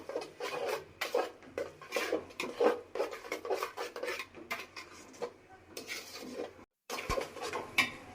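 Potatoes stirred and sautéed in a pan for a potato dal with egg, with repeated scraping and clattering of a spatula against the metal pan in irregular bursts, close and fairly loud.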